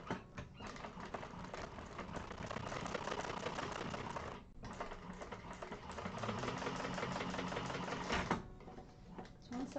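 Sewing machine stitching a bag seam, its steady mechanical whir running in long bursts with a brief pause midway and another near the end, fairly close and moderately loud.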